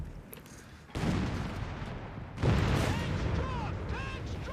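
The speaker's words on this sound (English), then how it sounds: "4 shots a Panzer III." Tank cannon fire at a Panzer III in the World War II strategy game Company of Heroes 3: two loud, heavy booming blasts about a second and a half apart, each with a long rumbling tail over continuous battle noise.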